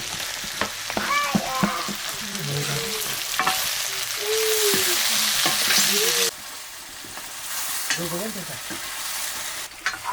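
Steady loud sizzling of onions frying in a pan with scraping stir strokes, a voice speaking briefly in between.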